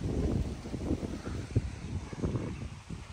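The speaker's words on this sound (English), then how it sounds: "Quite windy out here." Steady wind buffeting a microphone outdoors in Florida during an oil change on a 2015 Freightliner Cascadia truck, a continuous low rumble with gusty swells and no voices.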